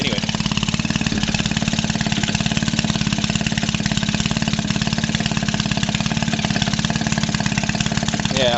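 A 1946 Maytag 72D small single-cylinder engine runs steadily with a fast, even putter, loud and close, holding one constant pace with no talk over it.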